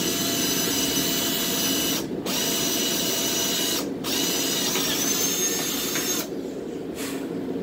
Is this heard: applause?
no